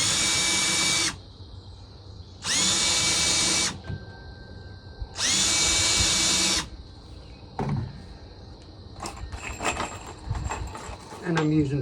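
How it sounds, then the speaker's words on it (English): A power drill countersinks holes in wood for a grape vine trellis, three loud whirring bursts of about a second each, followed by quieter handling clatter and knocks. "I also do a little countersink."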